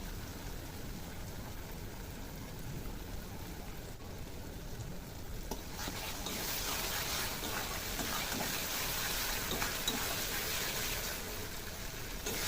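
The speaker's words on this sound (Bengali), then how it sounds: "মশলাটা ভালো করে কষানো হয়ে গেছে। এখন টমেটো সস দিয়ে দেবো।" Spice masala of chilli and turmeric powder sizzles in a pan as tomato sauce goes in for a chicken ball chilli dish, a steady hiss that swells noticeably louder and brighter partway through, with no talking.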